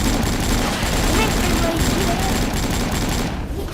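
Dense, rapid gunfire rattles continuously in the AvatarStar online shooter game, a loud, sustained burst of overlapping shots that fades slightly near the end.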